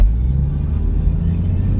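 Older Toyota Land Cruiser accelerating hard from a traffic light toward 60 mph, a loud, steady, low engine rumble heard close from inside the cabin.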